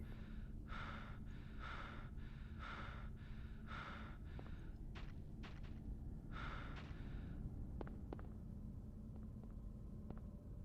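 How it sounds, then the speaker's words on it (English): A character in the Silent Hill game breathes awkwardly in a repeated, evenly spaced series of breathy huffs, faint over a low background drone, followed by scattered soft clicks. "Awkward breathing."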